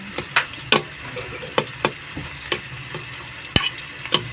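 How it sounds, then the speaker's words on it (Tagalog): Tomatoes are crushed in a pan of pinakbet, the Ilocano vegetable stew, giving a series of sharp, separate scraping and stirring knocks over a soft sizzle, loud and close, with no talking. "Durog-durogin na natin yung tomato para mag-sauce."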